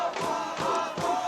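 A crowd at a 10th Planet team duels grappling championship in Los Angeles roars and chants in rhythmic surges, loud and dense, with repeated pulses of shouting filling the space.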